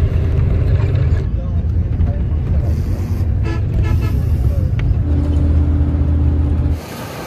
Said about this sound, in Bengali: বাস, এই বাস ছাড়বে।